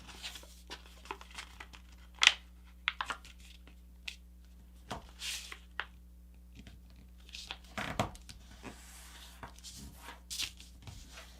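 Paper being folded into a paper airplane crinkles and rustles in short, irregular bursts, close up and fairly quiet, over a faint steady hum.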